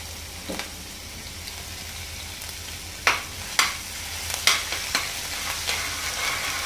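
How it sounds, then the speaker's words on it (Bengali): Chopped ginger and garlic frying in oil for a rohu fish curry, a steady soft sizzle with a few sharp stirring scrapes and clicks of a spoon against the pan, close and moderately loud, no talking. "আমরা আদা কুচিটা দিয়ে দিলাম সর্বপ্রথমে, তারপর রসুন কুচিটা দিচ্ছি, রসুন কুচি"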